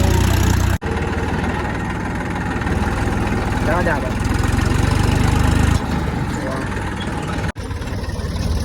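A tractor engine runs steadily on a farm, its loud, close, low idling rumble continuous throughout with only two brief dips, while people talk over it.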